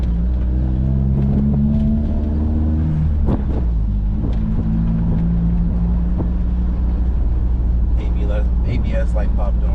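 A Honda Prelude being driven just after engine repair work, its engine rumbling low and steady with some rise in revs, close inside the cabin while a voice talks over it.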